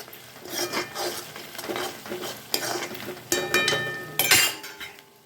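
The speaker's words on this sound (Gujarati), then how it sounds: "ડુંગળી સતળાઈ ગઈ છે, એમાં મેં અડધી ચમચી હળદર નાખી છે" Onions sauté in a pan with turmeric for a Gujarati methi gatta curry. A spoon stirs and scrapes against the pan in irregular bursts over a soft sizzle, with occasional metallic clinks.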